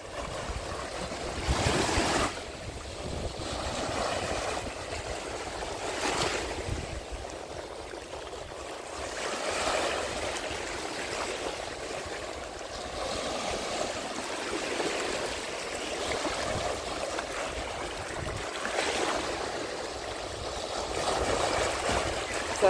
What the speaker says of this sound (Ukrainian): Зараз, Растя, буде хвиля.